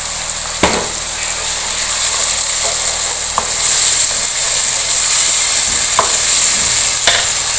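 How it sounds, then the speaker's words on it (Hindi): Chopped tomatoes sizzle and fry in a karahi with sautéed cumin, onion and garlic, a steady close crackling hiss broken by a few sharp clinks and scrapes of stirring. "अब हमने क्या करना है, ये इसमें कटे हुए टमाटर भी ऐड करने हैं।"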